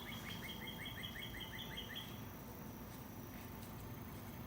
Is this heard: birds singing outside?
yes